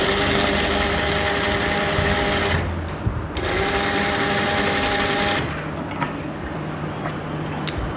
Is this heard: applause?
no